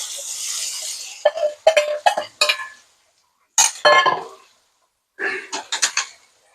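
Onions being stirred in a cooking pan, with several short bursts of scraping and clinking from a utensil against the pan, separated by brief pauses, close and fairly loud.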